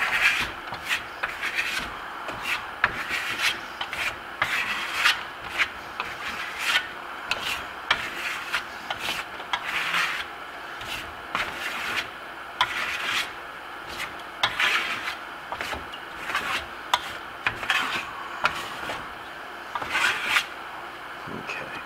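Steel trowel blade spreading Grasello Venetian plaster in a roasted red pepper colour, repeated rasping strokes scraping across the wall in a steady rhythm, close and fairly loud.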